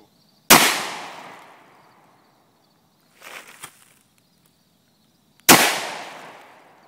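Two sharp, loud gunshots from a 6-inch AMT AutoMag III pistol firing 110gr FMJ .30 Carbine rounds ring out about five seconds apart, each with a fading echo, and a faint shuffling sound in between.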